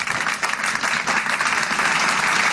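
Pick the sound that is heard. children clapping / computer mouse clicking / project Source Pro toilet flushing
children clapping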